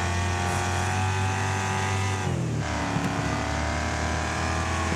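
Race car engine from the Wreckfest racing game, a steady loud close drone that holds pitch, dips briefly as if shifting gear, then climbs again along a straight.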